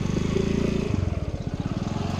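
A motorbike engine idles nearby with a steady low throbbing putter that shifts pitch once and keeps running, fairly loud and close.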